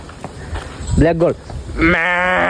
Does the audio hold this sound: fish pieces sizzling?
no